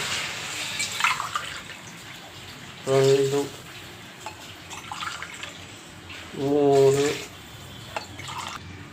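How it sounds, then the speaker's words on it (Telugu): Water is poured in splashing bursts into a pot of rice, with a person briefly speaking between the pours. "వాటర్ పోస్తున్నాను చూడండి"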